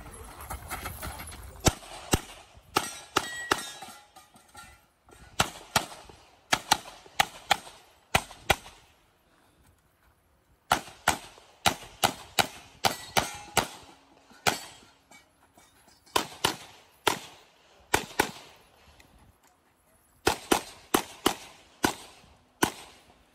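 Competitive shooting stage at a Georgia state match: loud, sharp gunshots fired in rapid bursts and strings, separated by brief pauses for movement, with crisp close reports throughout.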